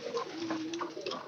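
Pigeons kept in a home loft in Bangladesh coo close by, a low, rolling throaty call running through the short moment with soft fluttery bird sounds around it.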